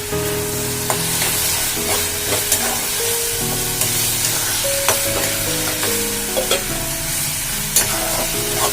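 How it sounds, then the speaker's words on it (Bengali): Onions frying in a pan for a Bengali-style mutton curry, with a steady loud sizzle throughout and repeated sharp clicks of a utensil stirring and scraping against the pan. "এবার পেঁয়াজটাকে আমি ভেজে নেব ভালো মতো।"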